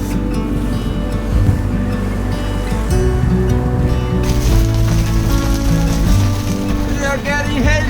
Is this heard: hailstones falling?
yes